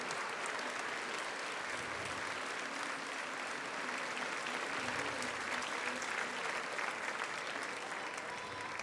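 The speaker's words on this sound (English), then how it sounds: "Merci de vos applaudissements pour Gabriel Paillasson." Sustained audience applause fills a large hall at the 2023 World Pastry Cup in Lyon, a dense, steady wash of clapping from a big crowd, with a faint voice now and then beneath it.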